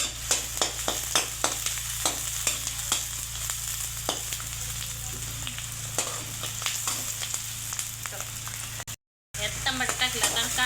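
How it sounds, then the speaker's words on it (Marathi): Onion roasting in oil in a pan for a dried-fish chutney, with a steady sizzle and frying hiss broken by regular scraping stir strokes, close and fairly loud, cut off briefly near the end. "तर आता कांदा भाजून घ्यायचे."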